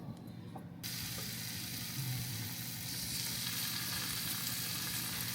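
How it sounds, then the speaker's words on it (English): Garlic and onion sauteing in hot coconut oil, a steady close hiss and sizzle that swells after the first second and holds evenly, with no talking. "we're going to saute some garlic and onion"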